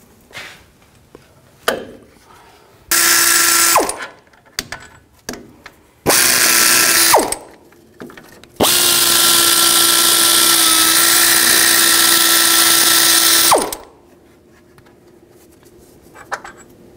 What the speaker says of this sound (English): Use a 15 millimeter socket and remove these four bolts from the back side of the knuckle.